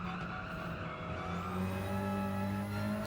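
Gran Turismo 7 race car engine droning steadily at high revs, its tone climbing slightly through a corner exit with faint tire noise, loud and continuous with no talking.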